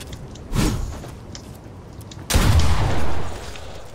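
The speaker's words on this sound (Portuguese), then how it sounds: "o tiro desta shot é forte" Two hard shotgun blasts in Fortnite, close and loud, the first near the start and a bigger one about two seconds later. Each is followed by a booming tail and rumble.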